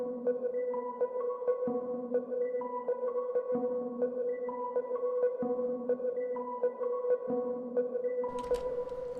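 A trap beat loop run through the Cloud Supply halftime plugin, mix at 46% and looping one bar, gives a slowed, steady repeating melodic pattern with bass pulses, ending in a brief bright crash-like burst.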